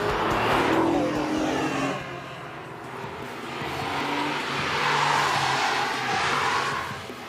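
A race car circles a driving course in Gran Turismo, its engine note rising and falling steadily as it passes and accelerates, loud and continuous with no voices.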